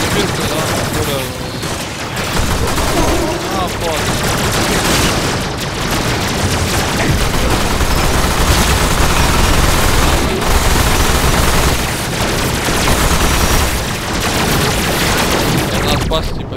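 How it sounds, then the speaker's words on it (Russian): Loud, dense bursts of machine gun fire rattle almost nonstop in the video game Warframe, mixed with booms, while someone talks over the gunfire. "Так вот в инвизе с пулемета бегаешь"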